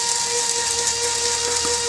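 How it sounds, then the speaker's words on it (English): A cheap coffee grinder whirs steadily as it grinds dry poplar wood shavings, a loud, continuous high motor whine with a sustained tonal hum and no pauses or talk. "I'm going to put them in the coffee grinder"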